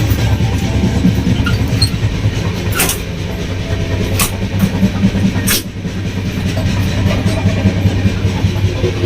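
A constant, loud rumble fills the inside of the moving Chhattisgarh Express train, with a few sharp clanks and rattles standing out, and nobody talking.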